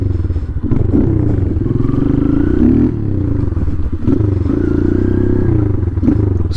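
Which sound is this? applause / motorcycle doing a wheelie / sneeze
motorcycle doing a wheelie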